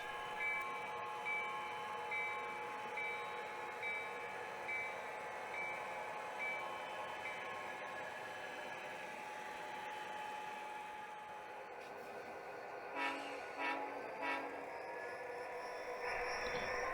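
An HO scale model train pulls four boxcars along a shelf layout, a soft continuous rolling rumble with a faint whine, ending in a few quick light clicks and clatters near the close.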